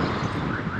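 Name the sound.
strong wind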